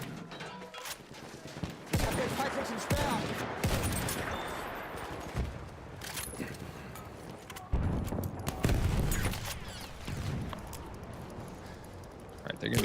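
Battlefield 1 gunfire on a Meatgrinder map, with bursts of rifle or machine-gun shots and distant explosions. The firing comes in loud repeated volleys over constant battlefield noise.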